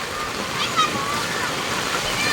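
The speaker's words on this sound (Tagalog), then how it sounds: "Ang lakas ng tubig." Strong floodwater rushes down a street turned river, a continuous broad wash of flowing water with faint children's voices in the background.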